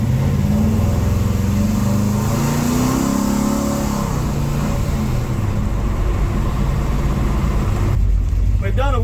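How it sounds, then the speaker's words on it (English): A truck engine roars loudly and continuously during a one-wheel burnout, revving up and sliding in pitch with tire noise beneath, close by, with a voice briefly over it. "We've done a one-wheel burnout."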